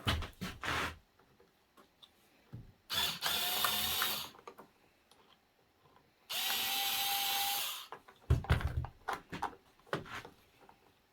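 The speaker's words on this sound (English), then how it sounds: "I'm going to see if I can maybe drill a little hole there." Two bursts of a small power drill whirring steadily for a second or two each, close by, drilling a small hole while repairing a weed eater throttle cable, separated by clicks and handling clatter.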